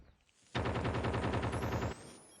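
Rapid automatic gunfire rings out in the mobile video game Call of Duty Mobile, a single sustained burst of about a second and a half with a fast, even rhythm, loud and close.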